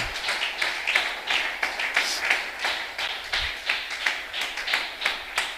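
A church congregation claps and cheers for the Lord, a steady wash of rhythmic clapping and applause that fills the whole stretch without spoken words.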